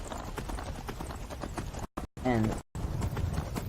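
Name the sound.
horse hooves clip-clopping, from video game Skyrim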